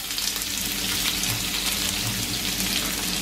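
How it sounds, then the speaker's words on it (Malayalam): Thinly sliced onions frying in a small amount of oil until brown, a steady close-up sizzle with soft crackle throughout and no talking. "നല്ല ബ്രൗൺ കളർ ആവുന്നത് വരെ നന്നായിട്ട് നൈസായി അരിഞ്ഞ് ഇങ്ങനെ വറുത്തെടുക്കുക"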